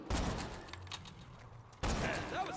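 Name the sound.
gunfire in the video game Borderlands 2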